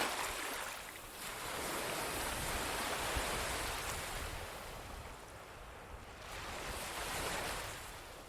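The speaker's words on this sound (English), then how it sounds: "listen to the waves" Ocean waves wash steadily onto a beach, a broad continuous surf roar that swells and eases in slow surges, with no voices over it.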